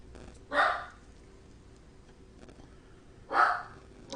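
A dog barks twice, a few seconds apart, each bark short and fairly close, over a quiet low background hum.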